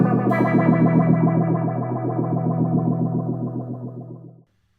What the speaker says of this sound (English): it's going to tell Condor to turn on to that clean ramping